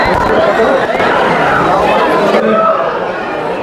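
A busy crowd talks all at once at Robber's Cave (Guchhu Pani) in Dehradun, a loud, continuous hubbub of mingled voices close around the listener that eases slightly toward the end.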